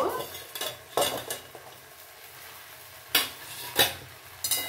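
A cooking pot is uncovered after simmering on low gas and the food inside is stirred, giving several loud, sharp utensil scrapes and clinks against the pan in short bursts, with a faint sizzle underneath.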